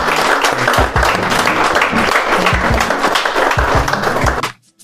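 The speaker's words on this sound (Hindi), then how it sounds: "हम लोग एक बार जोरदार ताली बजाएं" An audience at a college industry event applauds loudly, dense sustained clapping that fills the space and then stops abruptly just before the end.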